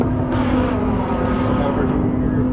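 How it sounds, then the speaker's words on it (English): A Volvo engine in an OTR flatbed straight truck runs with the hood open, a loud, steady low drone with a constant hum heard up close. "There's that Volvo making all that noise."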